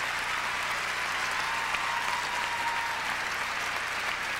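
Audience applause and cheering for Oksana Baiul's figure skating at an ice show, a sustained wash of clapping heard from within a large arena, steady and moderately distant throughout.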